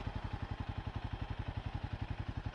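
A Royal Enfield Himalayan motorcycle idles in cold, misty weather, its engine giving a steady, low, rhythmic chug with a fan whirring faintly beneath.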